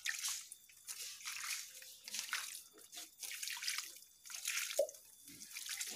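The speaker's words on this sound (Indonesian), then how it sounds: "Kemudian media tanamnya juga kita siram." Okra seedlings and their planting medium are watered, producing soft, close dripping and trickling in uneven bursts with small splashes, fairly quiet and with no talking.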